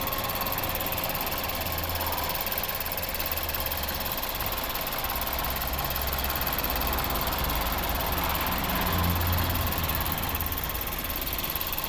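A 2011 Mazda 6 with a 2.0-litre petrol engine idles steadily, a constant mid-pitched hum with faint mechanical ticking, no voices, unchanging throughout.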